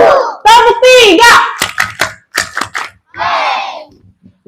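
Children at an elementary school storytelling session play a clapping game, with a few sharp hand claps in a counted rhythm between loud shouted and chanted voices.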